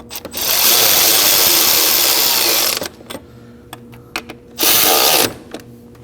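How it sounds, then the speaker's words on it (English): Ratchet snugging four knock sensor bolts on a 2011-2016 Kia Optima engine, heard as a long loud burst of rapid clicking, then brief taps and a second shorter burst of ratcheting. "Now we're gonna go ahead and get those 4 bolts snug up"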